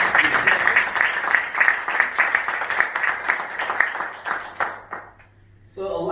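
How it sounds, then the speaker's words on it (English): Audience applause after a storytelling talk at a corporate event: dense, sustained clapping fills the room for about five seconds, then fades quickly, and a voice starts speaking again at the end. "Give yourselves a round of applause for being unstoppable"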